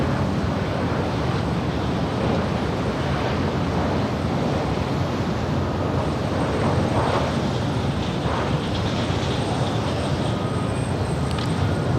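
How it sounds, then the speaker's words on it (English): WestJet Boeing 737-700, an 18-year-old jet arriving at Los Angeles LAX from Calgary, gives a loud, steady broadband roar mixed with wind buffeting on the microphone, sustained for the whole stretch with no talk. "This next arrival is Westjet 1510 coming in from Calgary. It's an 18-year-old 737-700."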